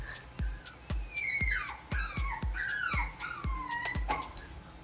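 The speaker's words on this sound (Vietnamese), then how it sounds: "Rồi kêu vài tiếng một hồi sau bé cún cũng sẽ im lặng thôi" A newly adopted puppy on its first day home whines and yelps in a string of high, sliding cries broken by short sharp yips, close and clear with no voices.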